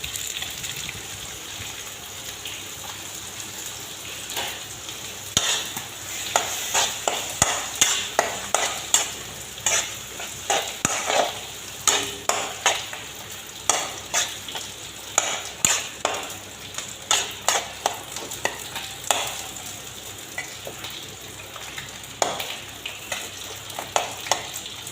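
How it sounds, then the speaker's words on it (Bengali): Chopped tomatoes cooking with salt in a pan, a low bubbling sizzle broken by rhythmic scraping strokes of a spatula as they are stirred, close and repeated, with no speech. "টমেটো দিয়ে দিচ্ছি। স্বাদ মতো লবণ দিলাম।"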